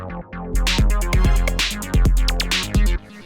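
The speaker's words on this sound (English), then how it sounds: "the last layer that we have here is the bass" Gritty electro synth bass layer, a punchy low line of short and held notes in a syncopated groove, with drum hits or clicky transients sitting on top, loud and upfront.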